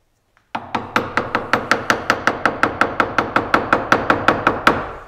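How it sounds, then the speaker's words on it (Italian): A wooden mallet strikes a chisel while carving a wood bas-relief frame, about twenty sharp, evenly spaced knocks in a steady rhythm, close and loud with no talk. "E si comincia con il mazzuolo."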